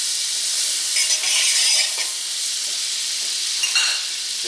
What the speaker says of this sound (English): Oh, what the heck, I'm going to add 2 tablespoons of butter.